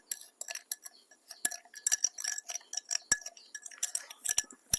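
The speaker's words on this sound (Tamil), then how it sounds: "இப்ப நாங்க ரெண்டையும் கலக்கிக்கொள்ளணும் நல்லா." A spoon stirs coffee powder and sugar together in a cup, making quick, light metallic clinks and taps in an irregular rhythm, close and fairly quiet, with no talking.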